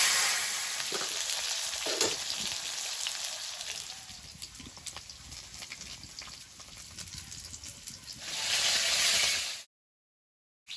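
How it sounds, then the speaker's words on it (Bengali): Sliced potatoes, with a pinch of white cumin, frying in oil in a karahi, sending up a continuous crackling sizzle that swells louder near the end before cutting to silence. "আলুটা একটু ভাজা ভাজা হয়েছে"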